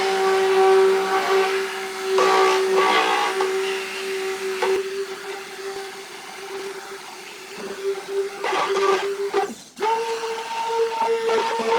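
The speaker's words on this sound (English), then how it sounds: "now we're gonna puree this really good here" Pumpkin spice mixture pureed in a blender, a steady whirring motor drone with short surges and pauses and a brief cut-off near the end before resuming.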